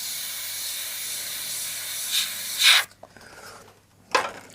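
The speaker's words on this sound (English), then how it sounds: "Spray half on your mask, and then the overspray will just bounce across." Aerosol spray paint sprayed onto a mask, with an ongoing hiss that builds into a loud close burst and cuts off, then after a quiet gap a second short spray burst.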